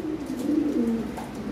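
Original lavender Lahori pigeons at a bird market give a soft, close, low cooing call, one short rolling coo lasting over a second, with no talking.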